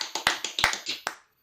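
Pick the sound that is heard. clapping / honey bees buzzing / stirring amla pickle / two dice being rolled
clapping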